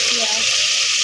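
Onions hitting a pan of frying spice paste, a loud, close, unbroken sizzle with a faint voice in the background.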